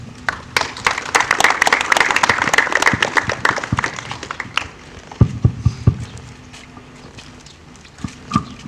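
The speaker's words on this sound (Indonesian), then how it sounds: "Mari kita beri aplaus." Audience at a student and community forum of the Lapago customary region gives dense, loud applause for about four seconds, then it thins to a few scattered claps and taps, with no talk over it.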